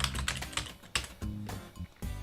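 Rapid computer keyboard typing while writing code in a programming editor, a quick irregular run of close, crisp key clicks with brief pauses and no talking.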